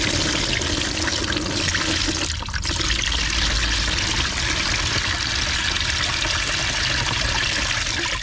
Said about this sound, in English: I'm draining a little bit more out.